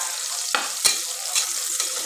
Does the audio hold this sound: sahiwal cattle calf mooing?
no